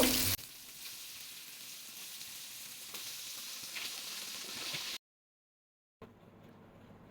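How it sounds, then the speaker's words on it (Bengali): Beef keema kababs fry in hot oil with a steady, moderately quiet sizzle and faint crackling, cut off abruptly by a second of silence before the sizzling returns more softly. "এখন এগুলো আমি ভাজবো গরম হয়ে গিয়েছে এখন আমি তেল দিয়ে দিব"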